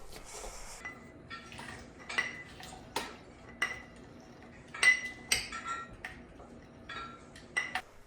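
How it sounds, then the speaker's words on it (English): Pomegranate seeds muddled in a glass with a muddler or the back of a wooden spoon, giving a string of soft, irregular clinks and taps against the glass, close and fairly quiet, with no talking. "you're going to take your muddler or the back of your wooden spoon, and you're just going to muddle these to get some juice"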